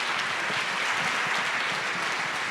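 University of Mississippi audience applauding panelists at a live event, a steady, full burst of clapping from a sizeable crowd, sustained throughout.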